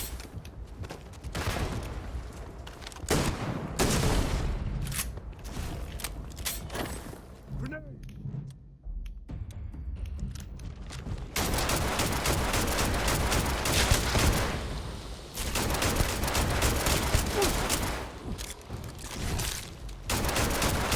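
Rapid gunfire from the video game Starfield, dense bursts of automatic shots and booming blasts filling most of the stretch with a short lull midway, loud and close, with a voice talking over parts of it.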